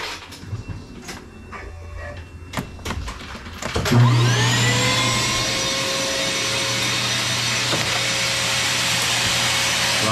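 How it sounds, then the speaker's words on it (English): A shop vacuum switches on partway through and runs as a steady, loud drone with a high whine, replacing the earlier clanking and scattered knocks from a Dillon 1050 brass processing setup handling 223 cases. "I'm going to put the vacuum on, guys. It's going to get loud, because otherwise it's going to clog"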